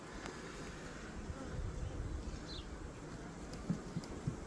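A swarm of honeybees crawls and hums over a hive frame, a steady low buzzing drone with a few louder passes from single bees, close and quiet, no speech.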